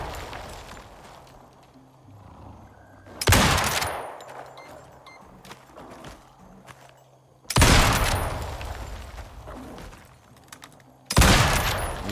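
Gunfire in Dispatch: Manhunt, an open-world game, comes as three loud, sharp bursts of shots separated by quieter stretches of ambient sound and footsteps.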